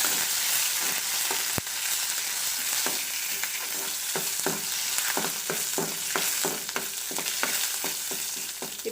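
Mustard seeds, curry leaves and dried chillies sizzle in hot oil for a chutney tempering, with a steady, bright fry and repeated sharp pops and crackles scattered throughout, close and fairly loud, with no speech.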